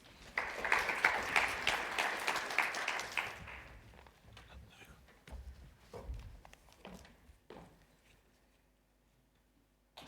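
Brief, faint applause at a foundation conference for a keynote speaker, dense for about three seconds, then dwindling to a few scattered claps and small knocks in a quiet room.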